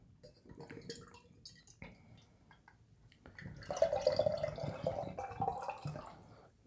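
Gemini beer from Mortalis Brewing Co. trickles and splashes into a glass, quiet and close, starting with drips and swelling into a fuller, bubbling pour.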